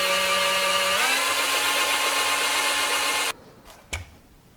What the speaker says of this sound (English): I'm extremely careful when I'm drilling and I'm measuring the depth